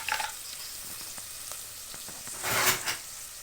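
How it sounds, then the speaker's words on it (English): Onions sizzle and fry in a pan over medium-low heat, a steady close crackle with a few clicks of stirring and a louder burst of hissing near the end, and no voices. "Just adding up my onions here, and then I'll let them fry until golden brown"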